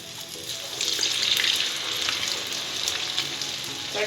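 Vada batter fries in a pan filled with plenty of oil, giving a continuous bright, crackling sizzle that stays fairly loud and close throughout.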